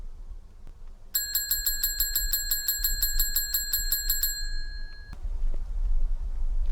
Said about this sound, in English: There was a phone going on.